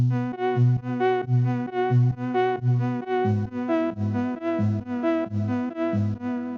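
A warm, distorted Omnisphere synth pad plays a pulsing chord pattern in steady repeated stabs, with rich harmonics and a slight echoey shimmer, no voices.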